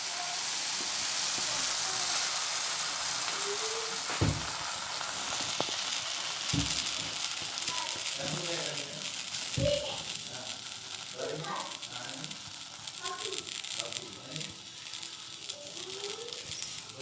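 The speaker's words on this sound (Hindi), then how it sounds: "अब मैं इसे ऐसे तवे पर डालूंगी।" Tandoori roti dough slapped onto a hot tawa, a faint steady sizzle with a few sharp knocks and clatters, while someone talks and the roti cooks.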